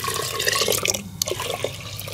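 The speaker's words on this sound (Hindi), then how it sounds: "इसमें एक गिलास पानी शामिल कर लेंगे" A glass of water is poured into a cooking pot of lentils with sliced onion and chopped tomato, a close splashing, gurgling pour lasting about two seconds with a brief drip-like break partway through.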